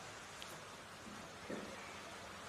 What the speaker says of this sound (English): the rain is coming in from the wind almost sideways right into the eyes of those running left to right